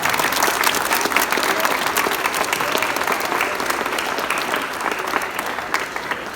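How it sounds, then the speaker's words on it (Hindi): Sustained, dense applause from a large live audience at a comedy poetry show, loud and continuous throughout with no break. "तालियां इतनी देर तक भी नहीं बजानी चाहिए"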